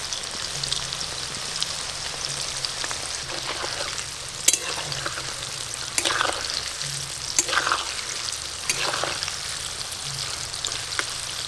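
Chicken pakora, KFC style, fries in oil that is not very hot, giving a soft, even bubbling sizzle throughout with a few louder spatters and pops.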